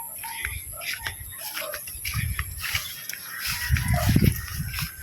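Several dogs barking and yelping outdoors at moderate distance, with a steady high insect or engine whine and some rustling movement throughout.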